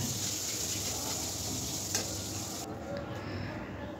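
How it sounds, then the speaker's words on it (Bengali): Fish frying in a pan on a home kitchen stove gives a steady, close crackling sizzle that holds evenly throughout, with a faint brief clink partway through. "একদিকে মাছ ভাজতে বসিয়েছি"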